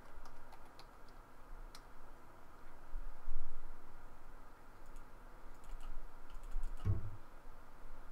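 Computer keyboard keys tapped in a short, quiet burst while a new folder name is entered, soft clicks scattered over a faint room hiss with no voices.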